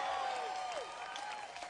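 Rally crowd in Washington at a habeas corpus event applauding and cheering, a fairly faint, distant wash of clapping with a whistle-like tone sliding down near the start.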